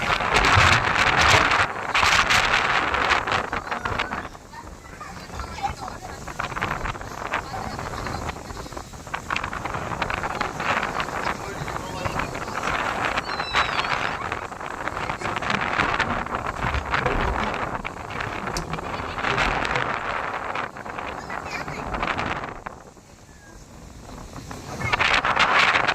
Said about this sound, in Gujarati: અને પવન છે જોરદાર.